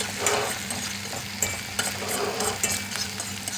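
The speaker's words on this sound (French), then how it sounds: "Donc il faut faire blondir les oignons." Onions frying in a pan while being stirred, a soft continuous sizzle broken by repeated light scrapes and taps of the utensil, heard close and alone.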